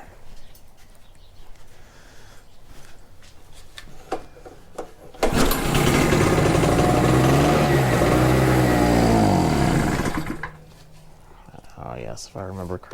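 A small two-stroke generator engine sputters and catches, then roars steadily at high revs for several seconds before cutting back to a lower idle; voices are heard around it.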